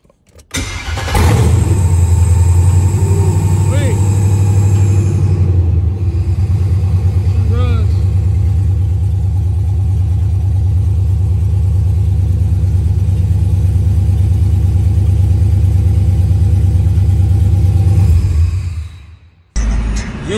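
A 1979 box-body car engine cranks and catches, then runs loud and steady at a rough idle with occasional revs for most of the clip before cutting off.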